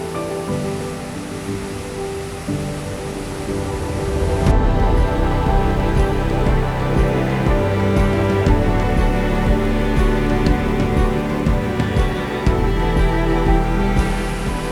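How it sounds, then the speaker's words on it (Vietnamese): A tiered waterfall at Tà Xùa, Vietnam, roars steadily from close by at its base, a dense continuous rush of falling water that swells louder after the first few seconds and holds without pause. "Tụi mình lại gần dưới chân thác mà nghe tiếng thác đổ ào ào không ngừng."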